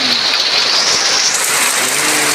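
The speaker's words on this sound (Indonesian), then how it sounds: "Hujan deras." Heavy rain pours down over an outdoor fish pond, a steady, loud, dense wash of water with no break.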